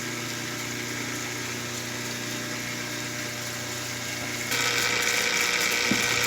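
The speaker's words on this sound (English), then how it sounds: "Now we use the coarse diamond wheel, the 80 grit or 60, I forget which it is, to grind away these other defects." A coarse 60 or 80 grit diamond wheel grinds defects from a Petoskey stone, making a steady high motorized whine that grows louder and harsher partway through, with no voices.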